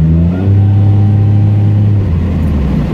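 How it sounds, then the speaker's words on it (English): The exhaust of a 2001 Pontiac Grand Prix GTP with a full catback and mufflers revs up loud and close, a deep droning engine note that swells, holds, then settles back toward idle. "This exhaust note, my dude, I mean, for like a full catback with mufflers"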